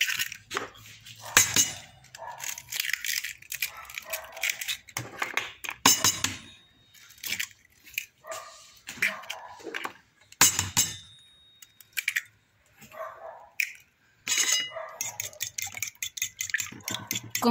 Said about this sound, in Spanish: Con la ayuda de un tenedor comenzamos a batir.